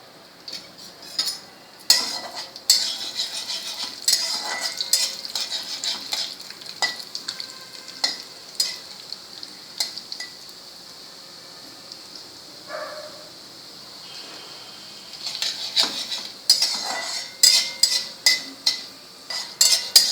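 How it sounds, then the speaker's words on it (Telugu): Urad dal frying in hot oil in a pan, a steady sizzle under repeated sharp clinks and scrapes of a metal spoon stirring, loud and close throughout with no talk. "నూనె వేడెక్కిన తర్వాత ముందుగా మినప్పప్పు వేసుకుని దోరగా వేపుకోవాలి"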